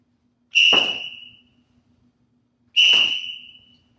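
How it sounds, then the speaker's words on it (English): A referee's whistle in a martial arts judging setting gives two fast, sharp, loud blasts about two seconds apart, each shrill and clean against silence. "You'll blow a fast, sharp whistle."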